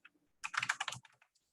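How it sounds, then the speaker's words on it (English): Quick typing on a computer keyboard, a short burst of close, soft key clicks with a few lone taps before and after, with no talking. "I'm going to type in business plans."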